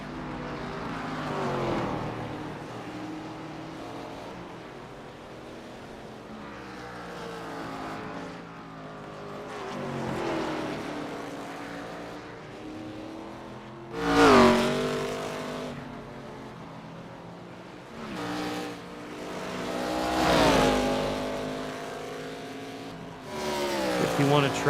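Race cars in an ARCA-style racing video game drone and whine around a track, with engine surges swelling as cars pass near the middle and end. A voice talks over them much of the time.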